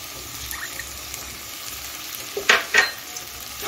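Ginger juice being stirred into softened vegetables in a hot pan brings a steady background sizzle, then two sharp bursts of hissing and spatula scraping near the end, for chire pulao.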